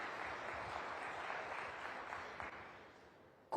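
A conference audience at a Web3 event in Jaipur applauds together, a dense, steady wash of clapping from many hands that holds evenly and tapers slightly toward the end.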